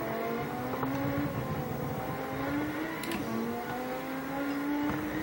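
Video game drag race between a Mercedes SLS and a McLaren Mercedes SLR, with engine tones rising steadily together through the gears, loud and continuous with brief shift breaks and no voices.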